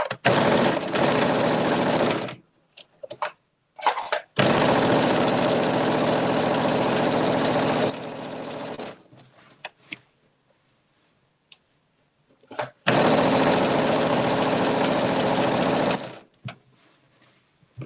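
A sewing machine stitches a hem with a 5/8-inch seam allowance, whirring in three loud sustained bursts separated by pauses with short clicks.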